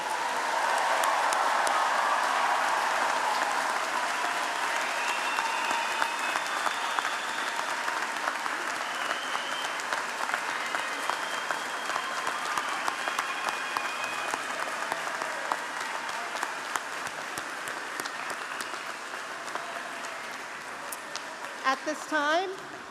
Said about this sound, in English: Everyone, please join me in a round of applause for all of our graduates today.